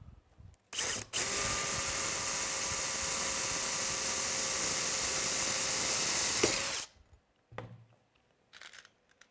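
A power drill bores a hole in a clamped metal arm assembly, a loud, steady high whine held for about six seconds before stopping, with brief clanks of handling before and after.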